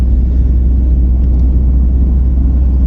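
Renault Espace Mk1 cruising on a smooth suburban road, a steady low engine and road rumble holding evenly throughout, close and continuous with no voices.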